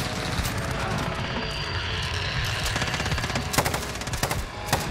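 Rapid bursts of light machine gun fire, a FiNN LMG, in a Call of Duty Modern Warfare multiplayer match, sharp cracks layered over continuous automatic fire and nearby battle noise, with no talk.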